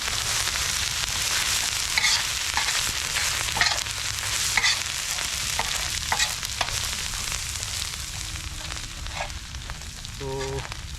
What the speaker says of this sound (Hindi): ठीक है, इन सब को हम अच्छे से मिक्स कर लेते हैं.